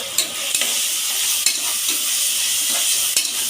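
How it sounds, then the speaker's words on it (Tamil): Coconut milk rice being stirred in a pan, a steady soft sizzle with a few sharp spoon scrapes and taps against the metal at irregular intervals. "நல்லா கிளறி வைக்கிறேன்."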